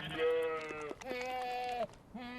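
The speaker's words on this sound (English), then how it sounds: "Now, thanks to Randy, these goats have just a little bit of spider in them." Transgenic goats carrying a spider gene bleat in two long, wavering calls close by, followed by the start of a third.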